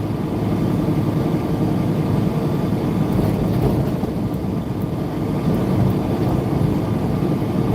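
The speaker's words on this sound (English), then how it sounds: "I'd rather listen to that engine running." A truck's engine runs steadily from inside the cab, a continuous low rumble blended with road and highway hum, with no talking.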